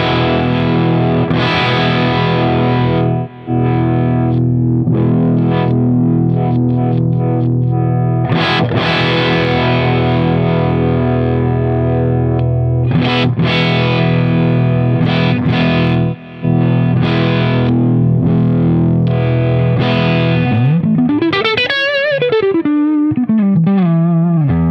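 Harley Benton SC-550 II Les Paul-style electric guitar played through a slightly overdriven Marshall Plexi amp, sustained crunchy chords and riffs ringing loud and continuous, ending with a rising then falling bend or whammy-like sweep.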